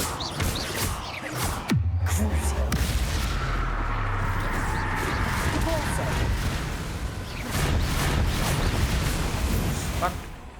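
A Confringo explosion spell goes off in Hogwarts Legacy with a sudden heavy boom and a rumbling aftermath. It sits amid a dense, noisy game soundscape of crackles and bursts, and voices are heard in the mix.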